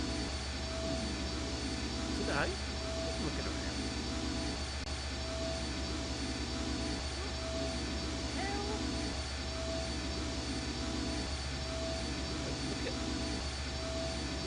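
Steady mechanical engine drone in the video game I Have No Mouth And I Must Scream, a continuous loud hum and whir that holds evenly throughout, with a few brief spoken words over it.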